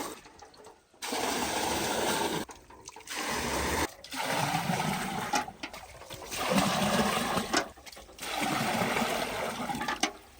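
Clean water pouring into a drum on a farm before fertilizer and potash are mixed in, a rushing, splashing gush that runs in several long bursts separated by brief silent gaps, fairly close and steady.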